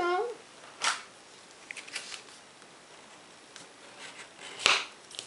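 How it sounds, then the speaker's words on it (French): Folded paper is creased with a bone folder in a papercraft session, giving a few short, crisp scraping and rubbing strokes spaced apart, the loudest near the end, with a voice speaking briefly at the start. "avec le plioir, on marque bien"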